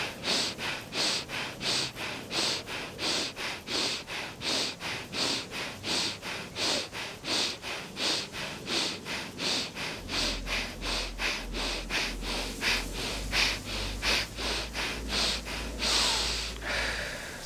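Rapid rhythmic forceful breathing through the nostrils in Bhastrika bellows-breath yoga practice, a steady train of sharp sniffing puffs about twice per second, close and continuous, with a low background hum joining later.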